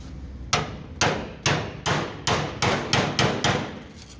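Eight evenly spaced hammer blows ring against a steel chisel wedged in metalwork, each sharp metallic strike close and loud with a brief decay, at a steady rhythm of roughly two per second.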